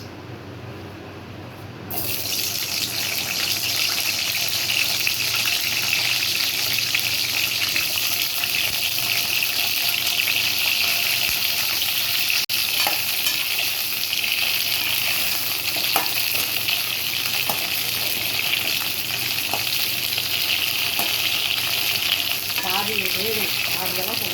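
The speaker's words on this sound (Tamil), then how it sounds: "இந்த கத்திரிக்காய் வந்து இதில் போட்டு பாதி அளவுக்கு வறுத்து எடுத்துக்கலாம்" Brinjal frying in oil for an oily eggplant kuzhambu, a loud dense hiss that starts abruptly and keeps up a steady, close sizzle throughout, with faint stirring near the end.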